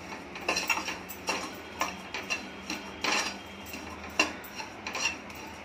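Dry masala roasts in a pan for stuffed eggplant, with soft, irregular scraping and tapping from a stirring spoon, close but fairly quiet, with no voices.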